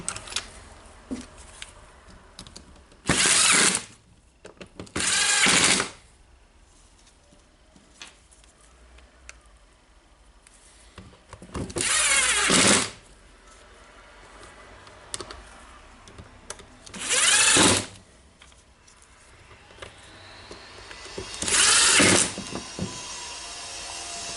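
Short powered bursts of a screwdriver driving two long screws into the housing of a Makita BJV180 jigsaw, about five separate whirring runs spaced a few seconds apart, close and fairly loud with quiet handling between.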